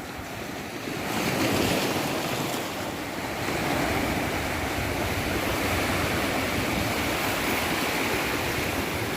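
Surf breaks steadily on Mithbav beach, a loud continuous wash of waves mixed with gusty wind buffeting the microphone, with no talk.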